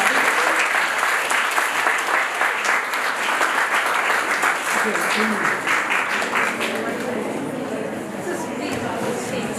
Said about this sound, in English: Can we have a round of applause for the prizes?